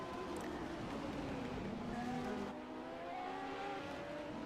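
A March 87C race car with an Ilmor engine roars steadily in a racing game, a sustained engine drone that drops slightly in intensity partway through, with no talking.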